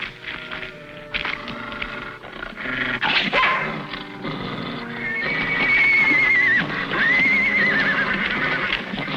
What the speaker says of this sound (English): You better call that doggo. And that horse too, Sonny, if you want to keep him alive.